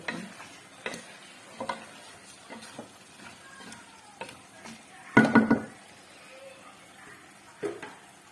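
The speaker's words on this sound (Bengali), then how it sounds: "মাংস কষায় আমি আলু ঢেলে দিচ্ছি" Potatoes tipped into beef braising in a pan: soft scattered clicks and scrapes, then one loud, brief clattering burst of pieces hitting the pan, with light sizzling underneath.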